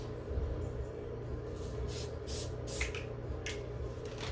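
Several short hissing bursts of spray adhesive from an aerosol can, one after another, over a steady low background hum.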